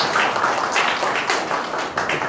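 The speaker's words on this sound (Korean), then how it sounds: "뜨거운 박수 받으시기 바랍니다." Audience applause at a Korean environmental awards ceremony, a steady, full patter of many hands clapping at close range with slight swells, no voices over it.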